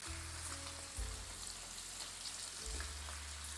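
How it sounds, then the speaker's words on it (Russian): Onions frying in a pan with rendered pork fat, a steady soft sizzle and crackle, faint and continuous over a low hum, no talking. "Отправляю на сковородку лук, обжариваю его до золотистого цвета."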